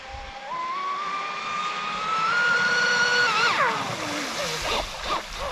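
High-power electric motor with propeller on a test rig, drawing up to 255 A and 5400 W at full throttle: a loud sustained whine that climbs in pitch, then drops sharply and fades into rough, uneven noise.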